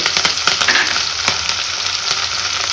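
Sliced onions, garlic and chillies fry lightly in a pan, giving a continuous close sizzle and crackle with occasional stirring scrapes.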